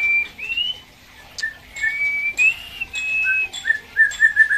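White-rumped shama singing in a breeding cage, a series of loud, clear whistled phrases with sliding notes and short chirps, close and alone.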